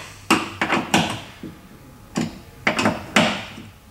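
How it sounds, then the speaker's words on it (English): Head bolts being retightened on a Bluevelo Quest/Strada recumbent seat bracket, heard as a close series of short, sharp knocks and clicks in small clusters with brief pauses between them and no talking. "So I'm just going to retighten those head bolts there"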